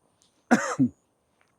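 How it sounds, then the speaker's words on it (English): A single sharp cough followed quickly by a short throat clearing, close and loud, then quiet. "so I've got a bit of a cough"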